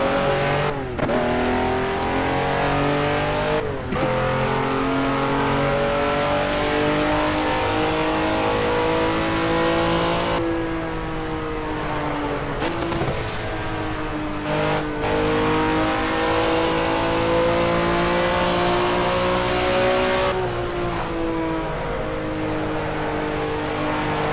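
A race car engine in the Project Cars racing game, a loud continuous drone that rises through the revs and drops sharply at several gear changes, constant and close throughout with no talking.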